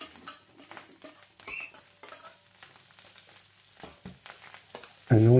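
Cold boiled rice tipped into a hot pan of beaten egg for Chinese egg fried rice, with soft sizzling, scraping and stirring, scattered utensil clinks and a sharp metallic clatter near the end.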